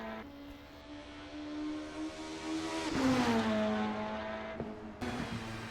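A race car's engine in Assetto Corsa at Autodrome Lago Maggiore, heard on board, holds a steady tone, then revs up and drops through gear changes, continuous and fairly loud with a sharp shift near the end.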